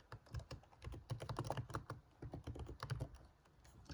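Fingers type on a computer keyboard in quick, uneven bursts of close clicking keystrokes with brief pauses, with no talking over it.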